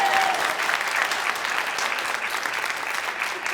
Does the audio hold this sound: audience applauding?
yes